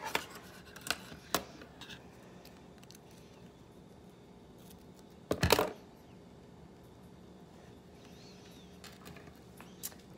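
Scissors snip through string wrapped tightly around a homemade foaming hand soap bottle, a single sharp close cut standing out over quiet room tone, with a few lighter clicks and handling taps around it.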